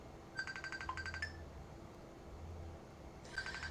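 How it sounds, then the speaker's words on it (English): Messenger audio call ringtone chiming in two bursts of repeated bright electronic tones separated by a pause, with a third burst starting at the end, moderately loud over low background hum and no talk. "Messenger audio. Should we answer again?"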